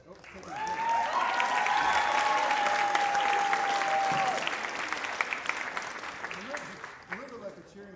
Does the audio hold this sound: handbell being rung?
no